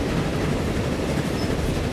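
Trains run on rails in the railway-building game Transport Fever, a continuous rolling rumble of railcars with a faint clickety-clack of wheels, steady and fairly loud with no speech.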